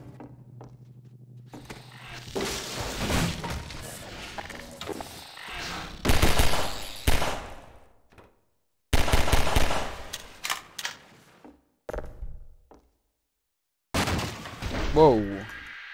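Gunfire in Half-Life 2 Episode 2, loud bursts of rapid shots in several separate volleys with short silent gaps between them, and a person talking at times over the game sound.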